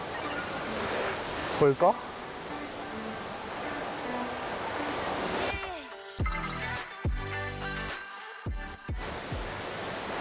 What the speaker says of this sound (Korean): 물이 아까보다 약간 더 세게 내려오는 것 같아요